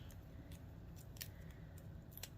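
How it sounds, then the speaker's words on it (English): Faint, repeated snips of slightly bent scissors cutting, spaced irregularly over a steady low background hum, with no voices. "My scissors are bent a little bit"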